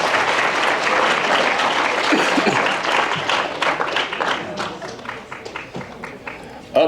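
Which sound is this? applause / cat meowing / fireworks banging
applause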